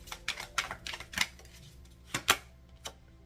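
Quick clicking and riffling of cards being shuffled close by, with a few sharper snaps toward the end and no talking.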